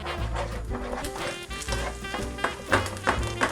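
Two cracked eggs with broken yolks scramble in a hot pan on a medium stove, crackling and sizzling in uneven bursts over a steady tonal hum in the background.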